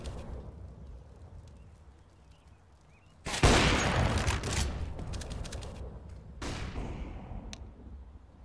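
Gunfire in a CS:GO tournament match, a sudden loud burst of rapid shots with a few more sharp cracks afterwards over quiet game ambience, without talk.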